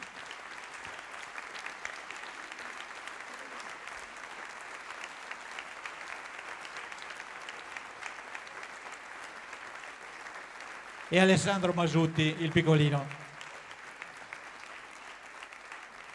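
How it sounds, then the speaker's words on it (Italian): A theatre audience at the Teatro Da Ponte applauds throughout a choir's fiftieth-anniversary evening, with steady, dense clapping all the way through and a voice calling out briefly over it. "L'applauso potrebbe continuare tutta la notte"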